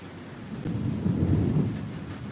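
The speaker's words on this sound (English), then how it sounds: "intense thunder." Intense thunder from a storm rolls as a loud, low rumble that swells and fades over a couple of seconds, with rain noise and no talking.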